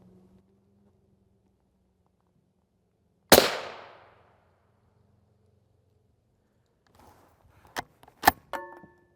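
A single sharp rifle shot cracks against an RMA Model 1192 NIJ Level IV armor plate, one loud impact in near silence, followed later by a few fainter clinks and metallic clatter.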